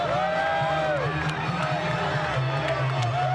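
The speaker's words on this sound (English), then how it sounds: "Look at the crowd, folks. Nothing but pure electricity." A boxing arena crowd at the Floyd Mayweather versus Oscar De La Hoya fight roars steadily and loudly, with whistles rising above the dense, continuous din.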